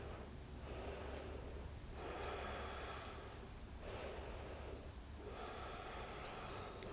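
Breathing during a yoga warm-up for crow pose, a few deep rhythmic inhales and exhales with airy, noisy exhalations, close against steady room noise and no speech.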